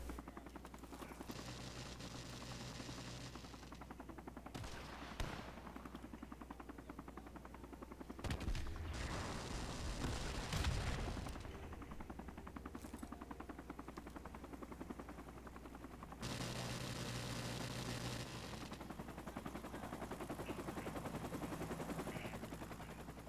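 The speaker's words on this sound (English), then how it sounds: "Is it the chopper? Yes, it's the chopper." A helicopter's rotor drone in a video game runs throughout, with stretches of loud gunfire and mechanical clatter layered over it.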